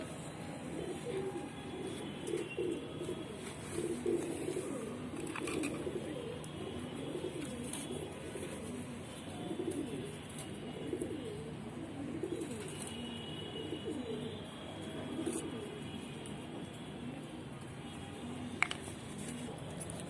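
Several pigeons, some old and slightly unwell, coo steadily in soft overlapping low murmurs that run through the whole stretch at a moderate distance, with no one speaking.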